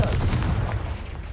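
Confringo fire-blast spell exploding in Hogwarts Legacy, a short, deep booming burst with a quick rumbling decay, close and fairly loud, with no voices.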